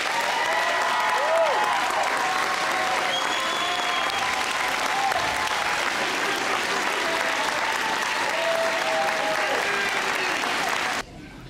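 An audience at a spring EMS Academy graduation ceremony applauds the graduates in sustained, dense clapping that fills the hall, with some voices mixed in. The clapping carries on loudly and evenly before dropping off at the end.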